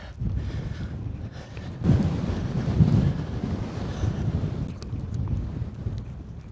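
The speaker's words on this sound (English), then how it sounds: "aye, she's windy" Strong, gusty wind on a rocky hilltop in the Northumberland hills buffets the microphone in a steady low roar, swelling in louder blasts, with no one speaking.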